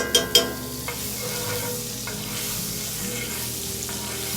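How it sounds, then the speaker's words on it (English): A tablespoon each of oil and butter hits a very hot pan, giving a loud, steady sizzle with two sharp clinks at the start and a few light scrapes, for horseradish sauce. "And I'm going to drop 1 tablespoon of oil. And I'm going to put about a tablespoon of butter."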